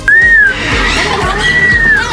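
A parrot whistles two clear, rising-and-falling tones with a pause between them, close and loud, over a soft low background, at Clark Safari and Adventure Park.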